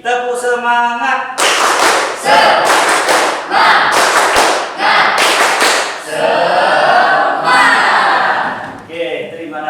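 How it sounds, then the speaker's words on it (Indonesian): Vocational high school accounting class doing a rhythmic spirit clap, bursts of loud group clapping in a patterned beat alternating with chanted voices, close and lively. "Satu kali lagi. Tepuk semangat."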